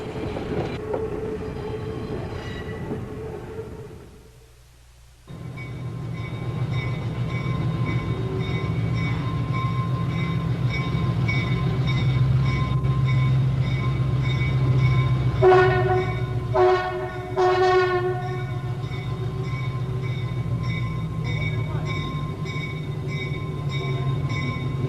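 A New Hope Steam Railway train running, a steady low rumble of the locomotive and cars with a brief drop near the start and a pair of loud horn or whistle blasts midway.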